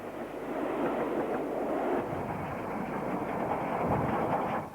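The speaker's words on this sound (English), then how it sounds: "Some more trains at Stafford" A 1950s steam locomotive passes at Stafford station, a steady broad rumble of wheels and carriages rolling on track at moderate distance, continuous throughout with no voices.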